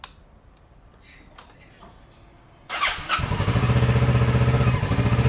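A twin-cylinder motorcycle, just repaired after being flipped over, fires up after a quiet stretch and settles into a loud, steady, close running rumble with a pulsing beat.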